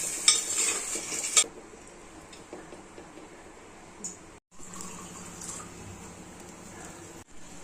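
Masala for a chicken curry being stirred in a pan with water added, a spoon scraping and clinking against the metal over a soft simmering sizzle, steady and close with no talking.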